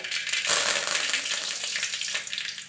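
Curry leaves sizzle loudly in hot coconut oil with popping mustard seeds, a dense crackling hiss that swells early and then holds steady, close and continuous with no talk.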